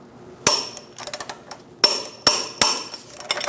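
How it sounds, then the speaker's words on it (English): Lower control arm bolts on a 2001-2006 Chevrolet Silverado 2500 HD being torqued to 107 foot-pounds, with several sharp, close metallic clicks spaced irregularly among softer ratcheting ticks. "go ahead and torque the lower control arm bolts to 107 foot-pounds"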